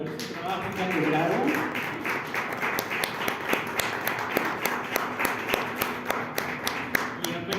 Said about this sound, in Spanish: darles un fuerte aplauso por este maravilloso trabajo que han logrado